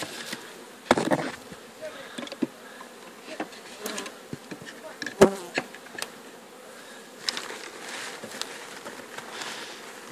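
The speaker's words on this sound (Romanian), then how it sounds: "De fapt, albinele sunt foarte agresive." Aggressive honeybees from a drone-laying colony buzz densely and continuously at an open hive during a queen change, with scattered clicks and knocks from handling the frames.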